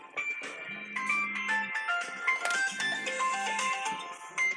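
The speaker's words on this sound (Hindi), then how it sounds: "फोन आ रहा है, ध्यान दीजिए।" An incoming call sets a phone ringtone chiming, a bright repeating melodic pattern with a low buzzing tone beneath it, heard clearly and alone for several seconds.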